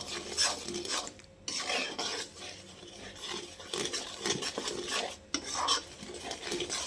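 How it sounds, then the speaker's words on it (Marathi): Gram flour dry-roasting in a pan for Sindhi kadhi, a spoon scraping and stirring with repeated gritty rasps and clinks against the metal, quiet and close. "बेसनचा सुगंध येईपर्यंत त्याला असं भाजून घ्यायचं"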